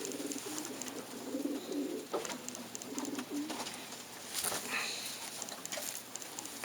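Pigeons coo softly and repeatedly inside a loft housing a big powder blue hen, with low throaty calls over a steady background hum and a few light rustles and flutters.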